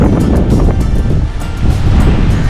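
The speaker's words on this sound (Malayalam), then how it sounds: "നമുക്കിവിടെ തന്നെ നിൽക്കാൻ തന്നെ പേടിയാകുന്നു, അത്ര കാറ്റും മഴയൊക്കെയാണ് ഇവിടെ." Strong wind with rain on the Kerala coast at Thottappally during a whirlwind storm, a loud, steady roar of gusting air and surf-like rushing that fills the whole stretch with no pause.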